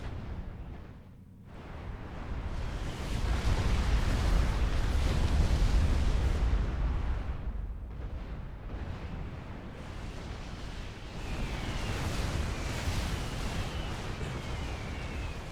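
Bombing runs in the strategy game Supreme Commander 2 set off a continuous rumbling barrage of explosions, heavy and booming, that swells and fades in long waves with no talk over it.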